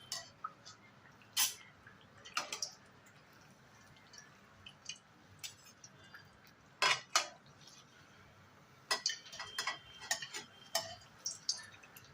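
Mal pohe fry in hot oil in a pan as a utensil flips them, producing scattered sharp metallic clicks and taps over a soft, crackling background, close up with no talking.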